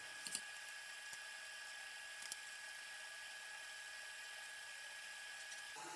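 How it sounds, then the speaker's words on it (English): A steady high-pitched whine of a power drill boring relief holes into wood runs throughout, with a couple of brief sharper bursts near the start and middle. "Here I'm just drilling some reliefs in the corners"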